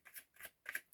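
Tarot cards being shuffled by hand in three short bursts of papery riffling and sliding, close and fairly quiet, with no talking.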